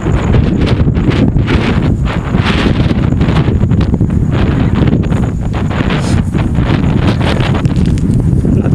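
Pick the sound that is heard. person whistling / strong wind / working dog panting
strong wind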